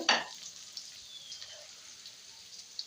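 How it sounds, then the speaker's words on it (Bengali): Garlic and ginger frying in oil in a pan, a brief loud sizzling burst at the start that settles into a soft, steady crackle with faint spattering, no voices. "সাথে রসুন আর আদাটা একটু ভেজে নেব।"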